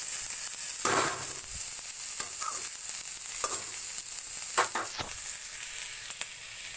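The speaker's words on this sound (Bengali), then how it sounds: "কুচিয়ে রাখা পেঁয়াজ দিয়ে ভালোভাবে একটু পেঁয়াজটাকে নেড়ে চেড়ে ব্রাউন কালারের মতো করে ভেজে নিই" Chopped onions frying and being stirred in a pan until brown, a steady close sizzle with scraping stir strokes recurring every second or two.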